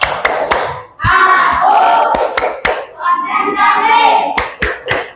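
Sharp rhythmic claps from a classroom of children doing a concentration clapping routine, loud and close, in quick patterned bursts at the start and end, with the group chanting together between them.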